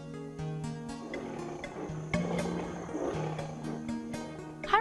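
A lion's roar as a sound effect, with deep growling tones swelling and rumbling over several seconds and a louder burst at the end.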